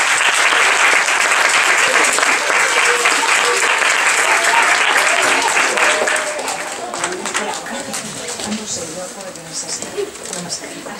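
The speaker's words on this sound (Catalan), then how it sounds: "Us demano un aplaudiment per la Sílvia, que és una mestra." A school audience claps for a teacher, a dense burst of applause that stays strong for several seconds and then thins out and fades.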